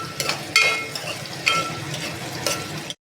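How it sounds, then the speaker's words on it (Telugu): Sliced onions frying in a pan for semiya upma, a steady close sizzle with a few scraping stirs of a spoon at regular intervals, no talking. "సో గాయస్ ఇప్పుడైతే ఆనియన్ ఇలా వేగాలి."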